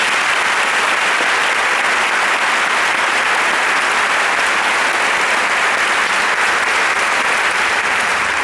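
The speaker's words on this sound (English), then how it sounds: "Please join me in giving them one more round of applause." Dense, loud applause fills a school convocation hall from a large audience, steady and sustained with no break for the full stretch and no voices rising above it.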